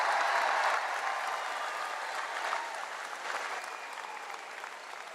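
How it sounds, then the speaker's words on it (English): A stadium crowd at an LSU baseball national championship celebration at Alex Box Stadium applauds first responders and staff, a steady, distant wash of clapping that slowly fades. "How about we give them a great round of applause?"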